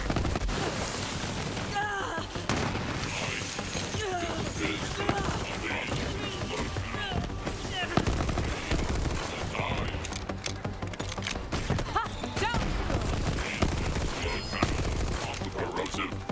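Dense, sustained gunfire rattles throughout a Borderlands firefight as a force field is shot at, rapid bursts and bangs stacked over busy game effects, with a voice talking now and then over the din.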